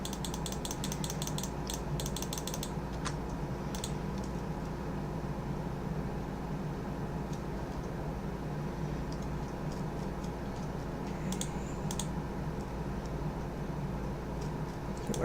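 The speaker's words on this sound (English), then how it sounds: "I'm sure you can hear me clicking." Steady fast mouse clicking at a computer mixed with an auto clicker, a dense even ticking that runs throughout with a few sharper clicks, fairly quiet, with no talking.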